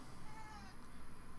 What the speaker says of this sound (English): Can you hear my cat meowing at me?